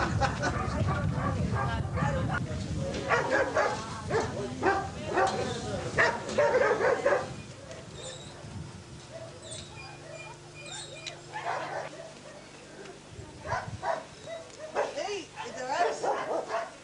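Dogs bark and whimper at a dog shelter, several animals yipping in bursts over a busy, reverberant room, with people talking in the background throughout.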